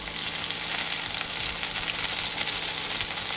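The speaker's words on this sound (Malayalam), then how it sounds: "ചൂടായ വെളിച്ചെണ്ണയിലേക്ക് മാങ്ങ തൊലി ചെത്തണ്ട, ഇതുപോലെ ആദ്യമേ കമത്തി വെച്ച് കൊടുക്കണം." Whole mango pieces and halved tomatoes placed face down in hot coconut oil hiss and sizzle steadily, a bright, continuous frying crackle close by with no talking.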